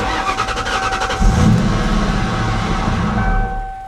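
A salt-water-flooded, 11,000-mile Ford Mustang Cobra cranks and its engine churns loudly and steadily after a quiet start, with a constant high electrical whine running over it.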